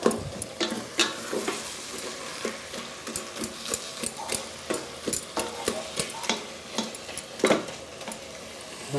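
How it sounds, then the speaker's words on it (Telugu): Amaranth leaves and tomato being stirred in a cooking pot on an electric stove for thotakura pulusu, with a steady soft sizzle and repeated scraping stir clicks throughout. "ఇలాగా తోటకూర టమాటా వేసి బాగా సగ్గాలి"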